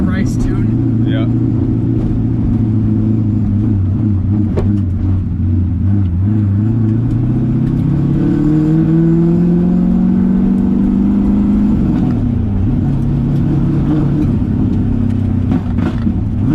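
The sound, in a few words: LS-swapped Nissan 350Z drift car engine revving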